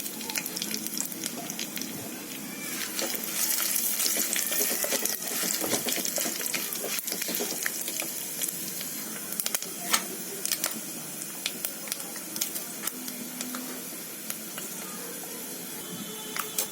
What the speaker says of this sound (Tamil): இப்போ நம்ம தாளிக்கிற ஐட்டம்ஸ் எல்லாத்தையும் போட்டுடலாம்.